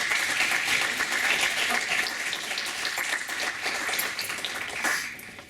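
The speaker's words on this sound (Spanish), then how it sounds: "Un aplauso para José Juan." An audience at a criminology talk applauds the speaker with dense, even clapping that holds steady, then tapers off toward the end.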